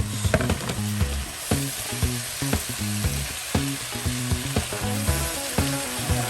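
Baby spinach sautéing in a hot pan for a quiche filling, a loud continuous sizzle broken by regular scraping stirs, close up with no talking.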